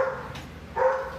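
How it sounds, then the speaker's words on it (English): A dog barking two short, sharp barks close by, the second a little longer and stronger, with no one speaking. "That dog is so loud."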